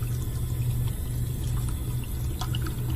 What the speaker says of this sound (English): Turn on a cold water tap halfway to imitate a low pressure period in the house.